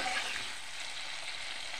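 Chopped green chillies stirred and frying in a pan for chicken chili rice, a steady soft hiss of sizzling oil with faint stirring, fairly quiet and without talk.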